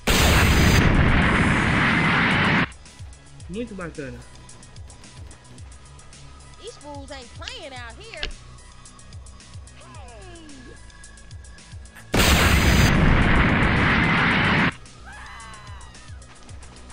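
Two loud, roaring explosions from the GTA San Andreas Dragon Ball mod, one opening the clip and one near the end, each lasting a couple of seconds, with gameplay sounds and a man's speech in between.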